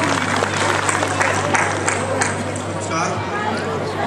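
An audience claps to welcome a student performer at a stage event: a continuous wash of applause and crowd murmur under a low steady hum, with voices mixed in.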